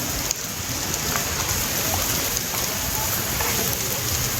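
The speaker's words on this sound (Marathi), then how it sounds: "सध्या मस्तपैकी पाऊस आलेला आहे" Steady rain falls outdoors in the hills of Lavasa City near a lake boating point, making an even, dense wash of drops that continues without a break.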